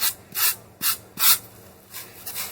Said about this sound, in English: I'm just going to take my wire brush and just, it's got wire bristles on it.